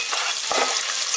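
Onion sizzling in a hot pan for street-style veg chowmein, a dense hiss of frying with a quick scrape of stirring partway through, close and loud with no talking.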